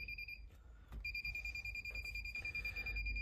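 A Constant Monitor CM8300 wrist strap tester sounds its fail alarm, a steady high-pitched electronic tone that breaks off briefly twice and then resumes, fairly faint against low background rumble.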